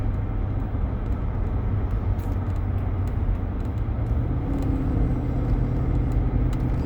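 A 2008 Range Rover with a lean-running fault cruises on the highway at about 50 mph and 1800 RPM, a steady low engine drone and road rumble heard from inside, constant and fairly loud without voices.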